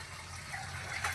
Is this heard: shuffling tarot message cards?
no